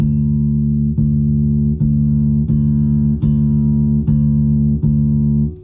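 Sustained electric bass guitar notes through a Gallien-Krueger MB212-II combo amp with 4-band active EQ, played in a steady rhythm of about seven plucks, bright and punchy with no talking.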